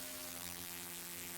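Arturia Synclavier V virtual synthesizer patch imitating a buzzing bee, a quiet steady droning buzz with layered harmonic tones and a slight wavering texture, alone without talk.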